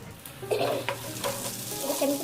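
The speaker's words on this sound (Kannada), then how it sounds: "ಇದು ಸ್ವಲ್ಪ ಫ್ರೈ ಆಗ್ತಾ ಇರಲಿ" Cloves frying and being stirred in a pan for a home-cooked sambar-style dish, with a steady soft sizzle and scraping stir strokes close by, no voices.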